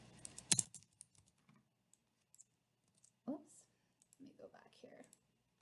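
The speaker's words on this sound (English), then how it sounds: "I'm clicking enter too many times." Someone presses the enter key on a computer keyboard, giving a sharp near click followed by a few soft taps, with brief speech afterward.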